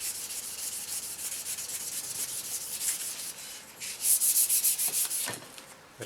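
Sandpaper is rubbed by hand along a motorcycle exhaust pipe coated in road grime, making a steady, close scratchy scrub with rhythmic back-and-forth strokes that grow louder near the end.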